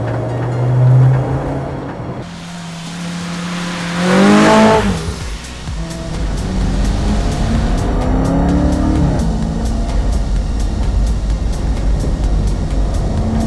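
Race car at Cadwell Park circuit, engine rising and falling through a corner, two loud revving surges then a steady sustained drone as it drifts out, heard alone without talk.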